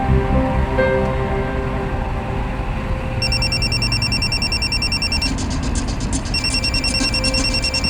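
A telephone rings with a bright, repeating electronic trill in regular bursts that continue steadily over a low background rumble, fairly loud and close, with no voices.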